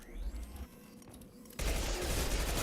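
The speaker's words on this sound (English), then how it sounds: "Taking fire." Mass Effect 2 Legendary Edition combat: a quieter stretch of battle ambience breaks into a loud, sustained burst of rapid automatic gunfire that continues to the end.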